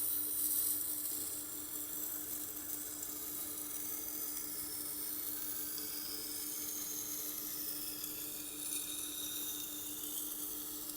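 A leather stropping wheel machine runs steadily against a cleaver blade, giving a continuous whirring hum with a faint high-pitched hiss over about eleven seconds, fairly even in level throughout.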